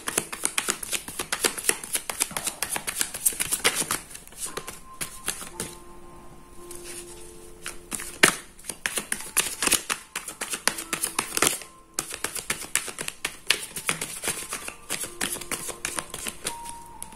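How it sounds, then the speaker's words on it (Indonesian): Playing cards are drawn out and shuffled by hand for a tarot-style reading, giving close, crisp flicks and riffling slides in dense irregular bursts with a few brief lulls and no speech. "10 kartu kita keluarkan."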